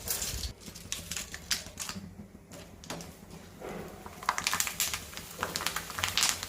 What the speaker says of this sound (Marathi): आता मी तुम्हाला चिप्स तळून दाखवणार आहे